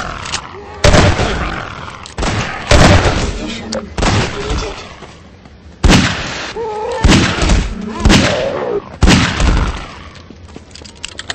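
Gunfire in the Half-Life 2 shooter: loud, sharp shots in uneven bursts, several of them with gaps between, alongside voices and game sounds.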